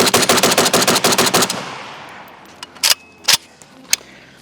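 A Pioneer AK rifle with a standard trigger fires a fast, loud burst of about a dozen evenly spaced shots, then a few scattered single shots as the rapid fire stops.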